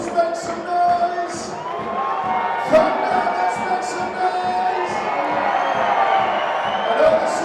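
A partisan stadium crowd at a Newcastle Thunder versus Bradford Bulls rugby league match, stirred up by the PA announcer, chanting and cheering in a steady rhythmic pulse with scattered whoops, moderately loud with a commentator talking over it.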